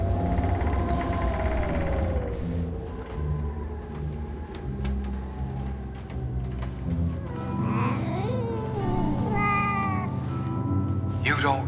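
Cat meowing in the 1995 PC puzzle game The 11th Hour, several rising and falling meows heard near the end over a steady background hum and music.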